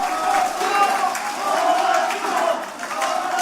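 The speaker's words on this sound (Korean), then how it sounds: "이쪽에도 박수 좀 치세요" Crowd applauding at a politician's People's Party primary campaign speech in Busan and Gyeongnam, a dense, sustained wash of clapping and cheering with voices mixed in.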